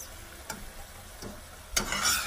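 Okra being added to onions frying in a pan, with a soft sizzle and a few stirring scrapes, then a louder burst of frying toward the end, close and without talk.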